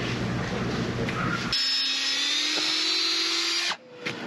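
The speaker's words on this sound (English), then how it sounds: "It's always a good thing when you go through and the drill doesn't just fall through." Power drill boring through the wall of a house during a Starlink dish install: steady high whine with a slowly rising pitch as the bit bites, alone and close, cutting off near the end.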